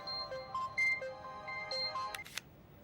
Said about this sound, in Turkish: Benim telefonum mu?